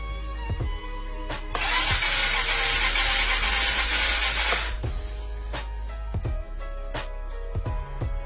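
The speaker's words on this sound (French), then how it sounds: "on va mettre un petit peu d'essence et on va voir si on arrive à le faire démarrer." SYM 250 quad engine being started after fuel is added: scattered mechanical clicks and knocks, then a loud, harsh burst of noise lasting about three seconds before it cuts out and the tapping resumes.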